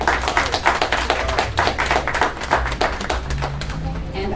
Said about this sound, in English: So if we can give April a quick round of applause.